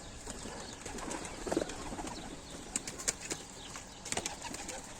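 Adana pigeons kept by a pigeon fancier, with soft cooing and wing flaps in a loft, a few louder flutters standing out against quiet background hiss.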